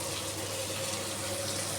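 Water pours steadily into a pan of spiced curry with chili powder and ginger for a brinjal dish, a continuous close splashing stream without pause.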